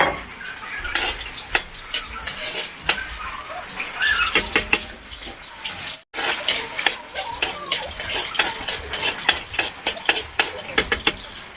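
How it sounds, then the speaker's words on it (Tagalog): Chopped onion sautéing in a pan after garlic, a continuous crackling sizzle punctuated by sharp clacks of stirring, fairly close with a brief pause midway. "Pagkahuman, gisahin ang sibuyas."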